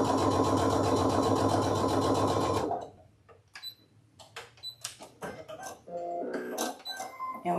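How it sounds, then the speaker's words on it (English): A sewing machine runs a 3.5-length top stitch on a zipper journal pouch, whirring loud and rapid for nearly three seconds before stopping, then soft handling clicks and rustles follow. "We're going to put a top stitch going all the way down."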